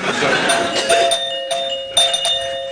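A comedy-show performer's voice-imitated doorbell announcing a guest's arrival, short repeated ding-like tones in bursts over a noisy studio background.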